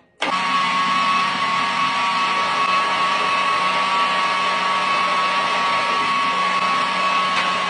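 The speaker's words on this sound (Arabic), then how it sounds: "من بعد ما جمعنا الروينه غادي نحطو هادشي في مول ديكس وخلط" Electric Moulinex mixer blending a roasted flour mixture, a steady loud motor whine that starts abruptly and runs continuously without pause, no voices.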